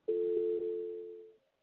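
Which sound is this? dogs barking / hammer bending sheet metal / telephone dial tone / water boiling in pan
telephone dial tone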